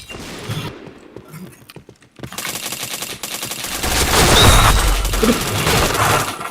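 Rapid bursts of gunfire in the PointBlank shooter game fill the clip, loud and continuous after a brief quieter stretch, with game effects and a voice talking underneath.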